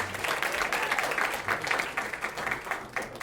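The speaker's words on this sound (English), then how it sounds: "We'll give a round of applause." Audience applause at a magic and card-trick stage performance, a dense, continuous round of clapping from a crowd, fairly even in loudness throughout the short burst.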